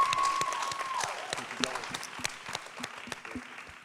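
Audience applause at a men's panel discussion, a steady patter of many hands that slowly thins out over a few seconds, with scattered voices and a brief tone near the start.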